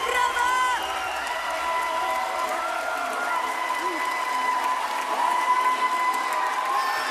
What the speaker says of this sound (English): Give them your support, the loudest round of applause possible!